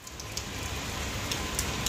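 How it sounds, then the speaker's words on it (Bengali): Steady rain falls on a midday afternoon after easing from a heavier downpour, a dense even patter close by with a few brighter drips standing out. "দুপুর থেকে বৃষ্টি হচ্ছে।"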